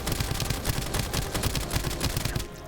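Rapid gunfire from a weapon in the video game Farm Town rattles in a fast, steady burst of shots for about two and a half seconds, fairly loud and dense, with no talking.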